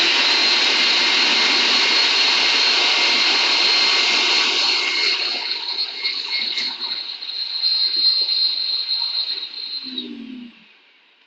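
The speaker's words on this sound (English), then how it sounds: "I meant to turn the vacuum on." A workshop vacuum in a woodturning shop roars loudly and steadily with a high whine, easing partway through and winding down to silence at the end.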